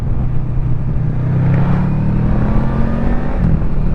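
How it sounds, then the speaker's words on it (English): Motorcycle engine droning loudly from a VFR800F ridden two-up through traffic near Aberystwyth, with a steady engine tone and wind rush, a slight pitch rise midway as vehicles pass. "Lots of traffic today, understandably."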